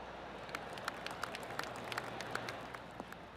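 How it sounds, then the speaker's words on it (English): Scattered, polite golf-crowd clapping from the video game PGA Tour 2K25, distant, sparse individual claps popping over a soft outdoor ambience. "I can hear the golf claps around the course."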